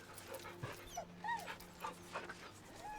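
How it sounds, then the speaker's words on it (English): In the video game Baldur's Gate 3, a dog gives soft, heartbroken whines, several faint rising and falling cries over steady ambient game background. "With a deep, heartbroken whine, the dog bows his head."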